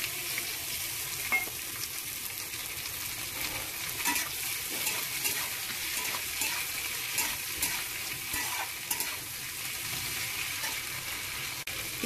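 Onions frying in a pan for a Punjabi-style chicken gravy, giving a steady, close sizzle with bursts of crackling and occasional stirring scrapes, with no talking.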